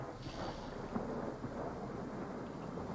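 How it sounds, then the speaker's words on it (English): Steady rain with a low rumble of thunder fills a battle in the strategy video game Total War: Three Kingdoms, a soft continuous wash with no voices over it. "Ah, it's raining."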